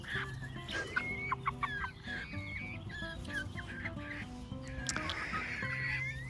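A rooster and hens clucking as they peck at macaroni, with repeated short clucks and honking calls from several birds, close by and fairly faint, with no talk.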